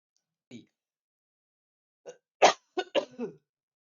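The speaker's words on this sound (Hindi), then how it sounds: "सॉरी, थोड़ी गला खराब होने की वजह से मुझे खांसी आ जाती है" A short cough from a person with a sore throat, then after a pause a cluster of harsh, throaty coughs in quick succession, close and loud against silence.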